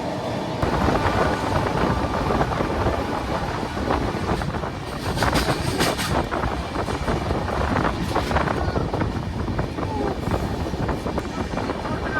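The 12871 Titlagarh Ispat Express rolls along the rails with a loud, continuous rumble and clatter of wheels, mixed with wind buffeting from an open window and occasional sharper metallic squeals.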